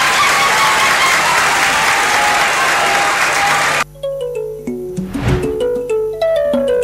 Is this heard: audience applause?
yes